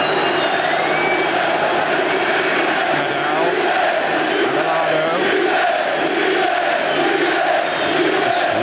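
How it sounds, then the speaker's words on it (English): Dense football stadium crowd roaring steadily throughout, a broad unbroken wall of noise as Manchester United fans celebrate Mark Hughes scoring against Barcelona in 1994. "Listen to this crowd."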